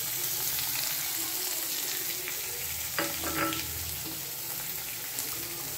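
Salt, cumin powder, Kashmiri red chilli powder, turmeric and a little sugar fry in a pan for a capsicum, pea and paneer dish, giving a steady close sizzle with a few brief stirring scrapes midway.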